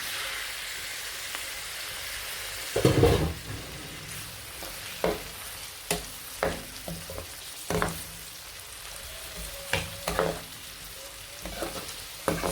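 Onion and tomato fry in a pan for a vegetable sauce, a steady close sizzle with a loud burst as the vegetables hit the oil, then repeated stirring scrapes and clacks at a regular rhythm.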